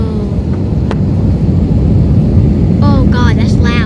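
Airplane engines roar loudly during takeoff, a dense, steady rumble heard from inside the cabin, with a voice speaking briefly over it near the end.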